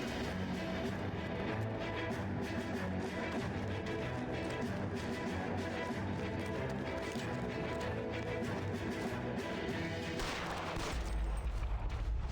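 Gunfire in the L.A. Noire video game as a fleeing suspect is shot at, bursts of shots over a dense, busy game soundscape, fairly quiet overall with a heavier thump near the end.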